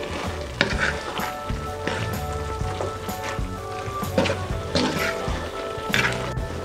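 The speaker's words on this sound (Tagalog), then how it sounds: "hahaluin na po natin dahil kumukulo na po itong ating sabaw" A utensil stirs a bubbling pot of boiling broth, with scraping, soft clinks and a constant simmering bubble underneath; no voices.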